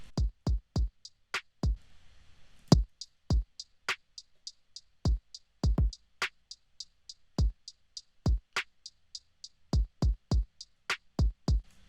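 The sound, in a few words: programmed drum beat played back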